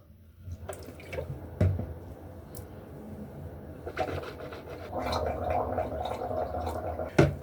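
Mouthwash of hydrogen peroxide and water swished around the mouth, a close, wet gargling slosh that churns steadily and grows louder toward the end, with small drips and clinks around it.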